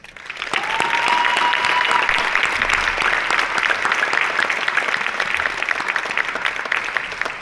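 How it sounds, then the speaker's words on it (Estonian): An audience at a high school graduation ceremony gives teachers a big round of applause, loud and steady dense clapping building quickly and holding throughout, with a faint tonal whistle briefly audible early on. "Lisaks teeme suure aplausiga õpetajatele, kes need noored edukalt riigieksamiteks ette valmistasid."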